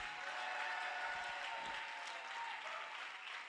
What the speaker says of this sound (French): Donc acclame encore le Seigneur pour ça